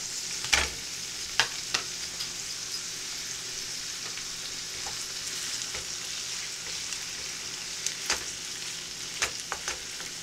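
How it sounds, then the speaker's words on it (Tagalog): Alcapurria filling of ground turkey sautéing in a pan, with a steady sizzle and scattered sharp clicks of a utensil stirring against the pan, fairly close, with no voices. "Bibilisan na natin ang pagigisa"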